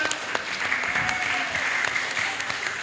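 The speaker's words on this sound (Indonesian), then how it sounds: "Kita beri tepuk tangan sekali lagi untuk narasumber kita semua." The audience of a talk show gives its speakers a steady round of applause, close and fairly loud, with a faint tonal murmur running underneath.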